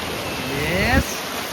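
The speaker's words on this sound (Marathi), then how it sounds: "थोडासा लाटा असं मोठं ही लाट आली बघा मोठी" A big sea wave breaks on the beach at Ganpatipule, giving a loud, continuous rushing wash with a brief surge near the end, while voices call out over it.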